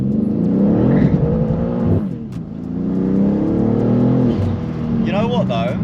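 A BMW G87 M2 launching from a standstill with stability control off, its engine revving hard and rising through the gears with a brief dip at a shift, loud and close, with a voice talking over the roar.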